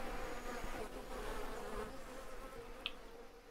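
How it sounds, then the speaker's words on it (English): Bees in the farming game Farmers Dynasty buzz continuously in a soft, close hum that stays steady for a few seconds, with no voices. "Have to have a word with the bees."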